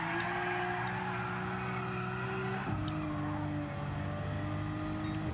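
A high-revving GT3 race car engine in the racing video game Gran Turismo 7 whines steadily, shifting pitch once midway as it changes gear, loud and continuous with no talking.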